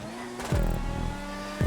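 An open-wheel race car engine in GTA Online screams at high revs, with pitch climbing then dropping sharply at gear shifts twice, loud and close.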